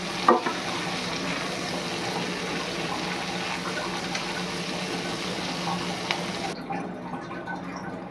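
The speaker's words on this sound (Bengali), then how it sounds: "দিয়ে ভালো করে একটু ফ্রাই করে নিই" Prawns fry with ground black pepper in a pan, giving a steady, moderate sizzle with a sharp clatter at the start, a little scraping, and the sound cutting off near the end.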